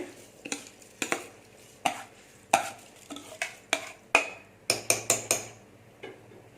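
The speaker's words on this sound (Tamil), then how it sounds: "தண்ணி நல்லா கொதிச்சிருச்சு. இப்போ அரிசியை சேர்த்துடலாம்." Soaked seeraga samba rice is stirred into boiling water for mutton biryani, with repeated sharp clanks of a ladle against the metal pot over a low bubbling background, close and uneven in rhythm.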